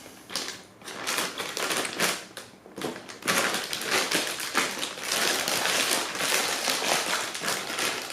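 Cardboard packaging for a Deepcool GamerStorm DQ850-M modular power supply being cut open, giving a near, continuous run of scraping, crunching and slicing strokes with short pauses, loud and close with no talking.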